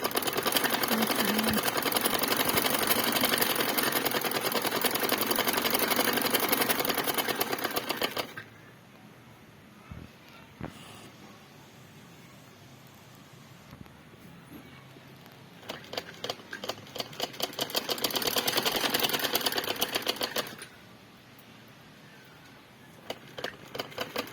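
A sewing machine stitches cloth for a shalwar, running in a loud, steady mechanical rattle for several seconds, pausing to near quiet, then starting up again in another burst before stopping.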